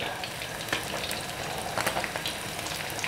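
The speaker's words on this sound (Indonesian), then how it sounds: "Nah ini ya goreng ikan trik atau teknik kedua sudah mateng." Fish frying in hot oil in a home kitchen gives a steady, dense sizzling crackle, loud and close, with occasional sharper pops and no speech over it.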